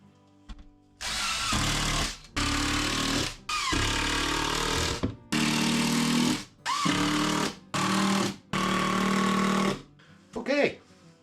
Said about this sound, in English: So now I just put a bunch of screws in this.